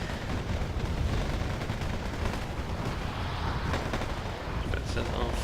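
Dense, continuous gunfire and artillery rumble from the Cold War wargame Wargame AirLand Battle, covering fire as infantry fighting vehicles move up, a steady loud barrage with a voice talking over it.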